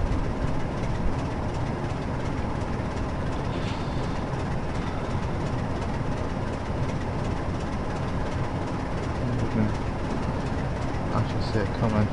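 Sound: train passing by in Train Simulator 2013 video game

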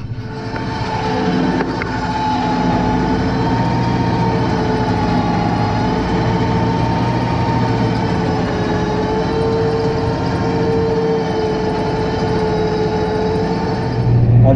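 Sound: tractor engine idling after power take-off stops

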